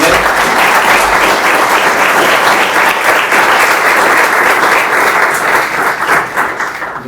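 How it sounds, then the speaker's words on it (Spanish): Sustained applause from an audience at a university economics panel, loud and steady throughout, tapering off slightly at the very end. "Así que les pido un aplauso a Daniel."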